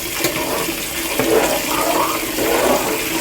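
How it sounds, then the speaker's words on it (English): Cold water gushes steadily from a kitchen tap, a close, continuous rushing and splashing that holds at an even level from start to finish. "So I'm going to run cold water."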